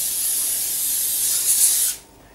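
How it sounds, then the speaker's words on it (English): Cooking spray hisses from a can into a glass pie dish in one steady, close burst lasting about two seconds before cutting off sharply. "we need spray a pie dish with a cooking spray."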